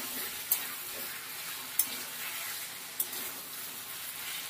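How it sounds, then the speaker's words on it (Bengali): Potato, onion and chili paste frying together in oil in a pan for a fish curry, with a steady close sizzle and a few sharp clinks of a spatula stirring at regular intervals. "আলুটা, পেঁয়াজটা, লঙ্কা বাটা সব কিছু একসঙ্গে ভালো করে কষিয়ে নেব।"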